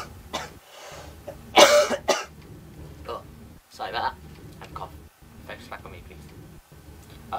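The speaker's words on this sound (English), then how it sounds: "I'm going to cough." A single loud cough bursts out near the start, followed by quieter throat sounds and soft speech in a close, quiet room.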